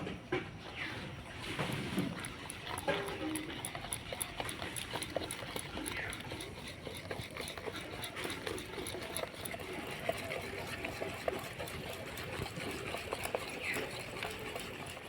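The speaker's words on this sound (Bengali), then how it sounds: "এবার সব কিছু ভালো করে মিশিয়ে নেবো" A spoon or whisk works eggless cake batter around a bowl, producing continuous soft wet scraping and rapid tapping strokes at a steady, busy rhythm, moderately close and with no talking.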